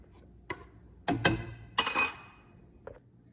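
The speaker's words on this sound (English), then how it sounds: "add our heavy cream. Give it a good stir" A spoon stirring heavy cream in a pot knocks against the metal in a few sharp clinks, one early, a tight cluster in the middle and a faint pair near the end, with quiet gaps between.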